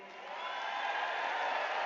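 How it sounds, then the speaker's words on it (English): A large indoor crowd cheers and applauds as RFK enters the room, a steady, swelling roar of clapping and whoops that builds over a couple of seconds. "we're just going to actually basically hear the crowd's response to RFK coming into this room"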